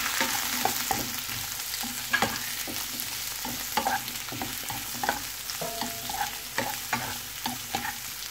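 Celery, capsicum and onion sizzle steadily in a pan for a chilli gobi semi gravy, with repeated stirring scrapes and clicks of a utensil breaking through the continuous fry noise, close and moderately loud, no talking.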